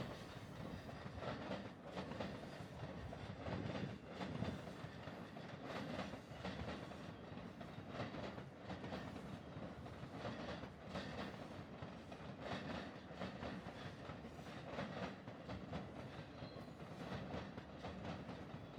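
A JR train rumbles steadily past near Ōfuna station in Japan, with continuous rolling wheel noise and faint clattering over the tracks, loud and close throughout.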